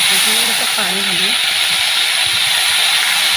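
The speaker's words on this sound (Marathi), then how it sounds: "आता आपण थोडंसं पाणी घालून" Water poured into a hot pan of fried bitter gourd hisses loudly into steam, a sustained, bright sizzle that stays constant while a voice speaks briefly early on.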